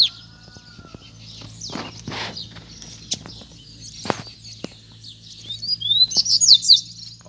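Double-collared seedeaters chirp and call near and far, with scattered sharp notes, a few wingbeat-like bursts and a bright trilling song building toward the end over a low steady background hum.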